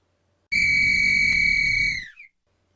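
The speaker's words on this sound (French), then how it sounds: "un coup de sifflet aigu réveilla Heidi." A single sharp, piercing whistle blast holds steady for about a second and a half, then bends upward and cuts off.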